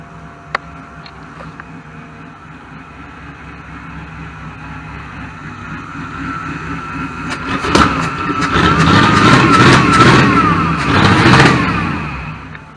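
A car engine idles in a school auto shop during fuel gas testing, then revs up hard with extra fuel into a loud, sustained roar that fades back down, close and prominent.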